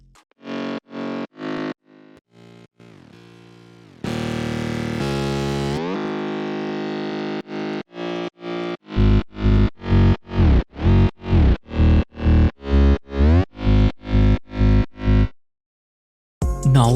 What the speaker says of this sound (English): I routed them into group channel, where I added heavy distortion using Camel Crusher